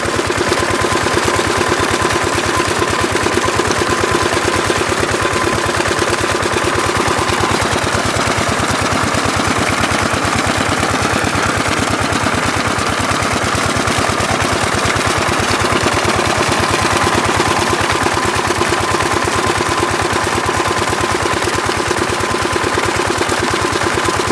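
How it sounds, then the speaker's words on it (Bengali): Generator-driven shallow pump engine running in a field, a loud, close, steady chugging drone with water pouring out and no break in the sound. "একটা জেনারেটারের মেশিন, এইখানটা এত সুন্দর জল পড়ছে।"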